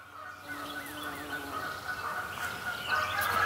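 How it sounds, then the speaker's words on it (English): Birds call faintly over a quiet outdoor background at Pioneers Park Nature Center, with honking geese cries and other bird calls scattered through a few seconds. "I heard some geese, I heard other birds calling"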